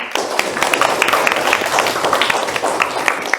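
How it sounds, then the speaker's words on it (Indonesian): A classroom of students claps for a presenting group, a dense, lively burst of many hands at close range that keeps going throughout. "kita kasih tepuk tangan untuk kelompok 2"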